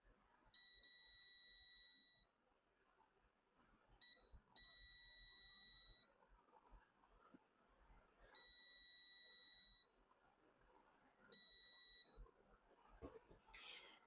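Multimeter in continuity mode beeping as its probes touch a buck coil: four sustained high tones, each about one and a half seconds long, separated by gaps filled with faint handling clicks.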